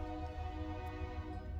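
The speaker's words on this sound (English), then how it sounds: "honk goes the train" A distant train horn sounds as one steady, sustained blast with a rich stack of tones, holding for the whole moment over a low rumble, with no voices.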